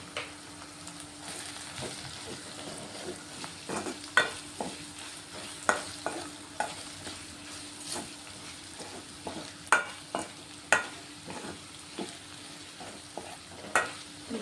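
Chili powder frying with ivy gourd curry in a pan: a soft, steady sizzle under repeated sharp clinks and scrapes of a spoon stirring against the pan, close and moderately loud.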